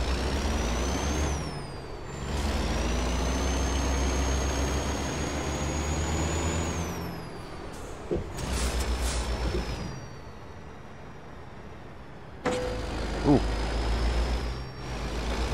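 In American Truck Simulator, a truck with a trailer of office furniture manoeuvres into a tight spot in Arizona, its engine idling and rumbling low with sharp hisses of the air brakes.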